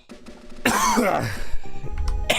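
A person coughs harshly several times in a row, close by, with a raspy throat-clearing quality between the coughs.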